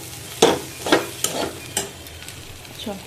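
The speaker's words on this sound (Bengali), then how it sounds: "এই আলু ভাজছি" Potatoes fry in a pan with a steady low sizzle, broken by about five scraping stirs of the spatula spaced roughly half a second apart, close and fairly loud, with no voices.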